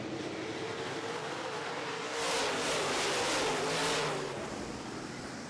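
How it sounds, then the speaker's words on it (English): Late model stock cars race at a speedway just after the green flag, a loud continuous engine roar that swells as the pack passes, heard from the stands. "Green flag is out. We are racing."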